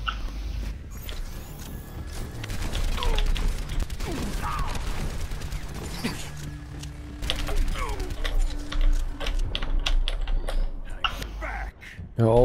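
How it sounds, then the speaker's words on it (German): Rapid, forceful typing on a computer keyboard during an online Overwatch ranked match, clattering keystrokes running throughout under game sound effects and voices talking. "Hör auf, so deine Tastatur zu vergewaltigen"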